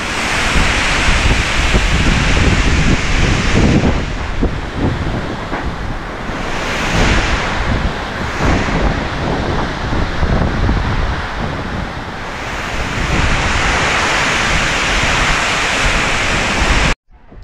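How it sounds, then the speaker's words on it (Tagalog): Gusty wind and heavy rain during a typhoon, a loud continuous broadband roar that rises and falls in surges, buffeting the microphone throughout with no voices. "Pabugso-bugso yung lakas ng hangin tsaka ulan."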